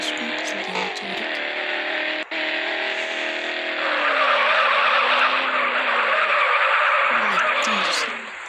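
A car drifting in the video game Madout2, its tires squealing in a sustained skid over a droning engine that grows louder partway through, while someone talks over it.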